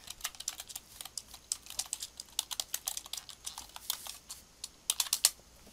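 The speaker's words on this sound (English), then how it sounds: "so you had to type in your question under Slackbot." Keys clatter in quick irregular bursts on a computer keyboard as a question is typed into a chat window, close and clear with no talking.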